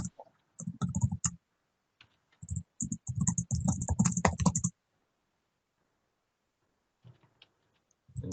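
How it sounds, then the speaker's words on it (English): Typing on a computer keyboard while building interactive H5P content in Moodle comes through as close, clattering bursts of keystrokes, a rapid run in the middle and then a long pause before a few scattered taps. "please do excuse my typing"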